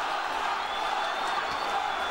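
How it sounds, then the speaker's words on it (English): Boxing arena crowd roaring in a frenzy late in a fight, a dense, sustained wall of cheering and whoops at steady loudness with no break. "This crowd is in a frenzy now."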